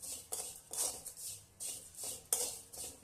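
Vermicelli roasting in ghee in a pan, stirred with a utensil in repeated scraping strokes against the metal, a close rhythmic clatter and rustle with no talking.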